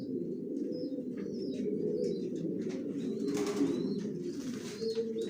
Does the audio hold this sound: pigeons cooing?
yes